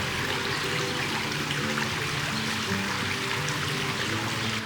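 A waterfall in Hallstatt, Austria, pours into the lake below, making a steady, close rushing and splashing of water that continues throughout, with no voices.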